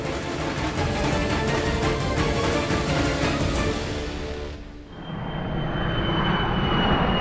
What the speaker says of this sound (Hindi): लंदन से आने वाली फ्लाइट संख्या GX782 लैंड कर गई है।